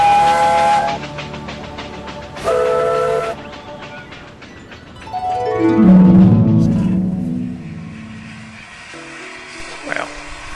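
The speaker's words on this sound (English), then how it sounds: "The traction engine trundled off down the road track, to the chorus of the engines whistling until they were put to burst." Steam engine whistles in an audio drama sound in a chorus of sustained tones, several blasts in turn that swell and fade, with talk woven between them.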